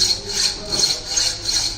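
A workpiece is cut by hand in a fitting shop with slow, even strokes. Close rasping scrapes repeat in a steady back-and-forth rhythm, about four strokes in under two seconds.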